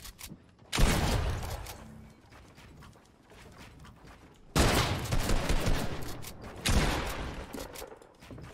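Gunfire in the video game Fortnite: three loud bursts of rapid shots, each a dense rattling volley lasting a second or two, separated by quieter stretches of game ambience, with no talk over them.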